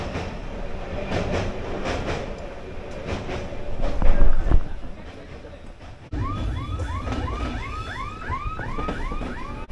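A train from Kolkata, heard from a sleeper compartment, rumbles along the rails with rhythmic clatter, swelling louder midway, then a steady squealing, warbling tone repeats over the running noise.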